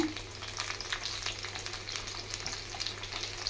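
Onions, bay leaf, carrots and vegetables frying in a pan for tomato rice, a steady close hiss of sizzling oil with light stirring scrapes throughout, no voices.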